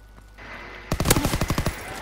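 Rapid automatic gunfire from a Call of Duty: WWII free-for-all match, a loud close burst of about ten evenly spaced shots after a quieter opening.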